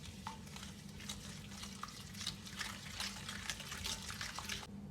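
Dough ingredients for Algerian kaak, with anise and salt, are stirred together in a bowl, giving a close, faint, continuous wet mixing and scraping with no talking.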